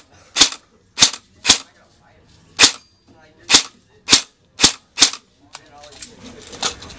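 A Javelin M4 CQB RIS blowback airsoft AEG running on an 11.1 lipo fires 0.20 gram BBs, eight sharp single snaps spaced irregularly about half a second apart, followed by faint background noise.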